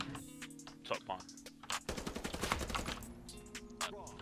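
Rapid automatic gunfire from the Battalion 1944 shooter comes in quick bursts of sharp cracks, loud and close, with game music and other effects beneath.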